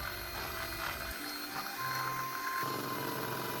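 An electric hand mixer whirs through a cake batter of egg, yellow food colouring and water for layered lapis legit, a steady close motor drone with slight shifts in pitch and no talk.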